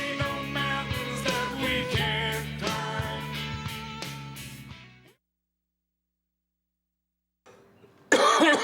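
A single raspy cough, modeled on one from a Humphrey Bogart film, bursts out loud at the very end. It follows several seconds of live country music that stops abruptly and is then followed by near silence.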